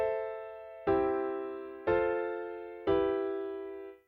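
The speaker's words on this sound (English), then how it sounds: "So we have the 6, 1, 4, 3 chord progression, which sounds like this." Four sustained chords of a 6-1-4-3 pop progression, each struck about once a second and left ringing as it decays, played alone with no voice.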